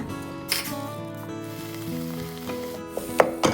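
Thai red curry paste stir-fried in coconut milk over low to medium heat, a soft steady sizzle running throughout with faint stirring scrapes and a few sharper clicks near the end, heard close with music-like tonal layers underneath.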